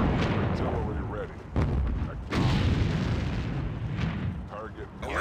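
Heavy booming blasts and rumbling explosions from artillery in the World War II strategy game Sudden Strike 2, loud and sustained with a few distinct hits, over a busy battle soundscape with voices speaking.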